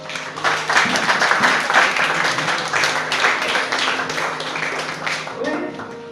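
A church congregation applauds in a steady, dense patter of clapping over about six seconds, with a voice carrying over it.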